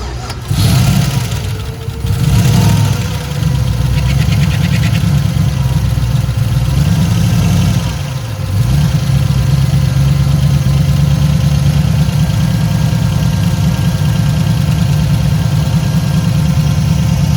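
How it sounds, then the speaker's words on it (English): LS-swapped Mitsubishi Conquest engine cranks and fires up, then settles into a steady, loud rumbling idle with a slight dip partway through and faint valvetrain clatter throughout. "We'll go ahead and fire her up."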